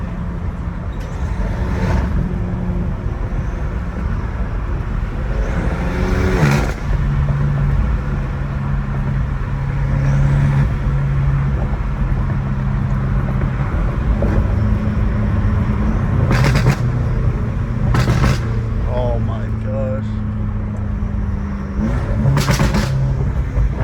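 A BMW M5 Competition's exhaust rumbles steadily while driving, with low droning tones rising and falling as it changes pace, plus several short sharp crackles and pops over ongoing road noise.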